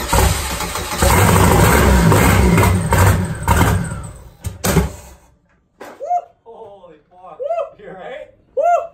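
Turbocharged Chevrolet Cavalier engine roaring loudly at its first start, a harsh dense blast close by that cuts off after about five seconds, followed by excited voices talking.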